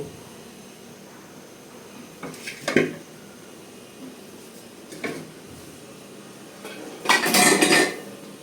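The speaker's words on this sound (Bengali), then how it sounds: "সাবধানে কাজ করতে হবে আস্তে আস্তে লেড়ে চেড়ে কাঁঠাটাকে" A utensil stirs jackfruit in a metal pan, giving a few sharp clanks and scrapes in separate bursts between quiet stretches, the last one longest and loudest.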